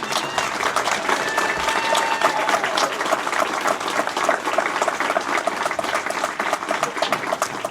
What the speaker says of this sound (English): let's just clap right now before I even start